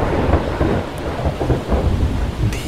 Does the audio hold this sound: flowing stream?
no